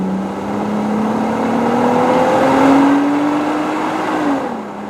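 Jeep Wrangler JK with an axle-back exhaust revs up steadily, a loud, close engine drone rising in pitch over several seconds before dropping off at the end.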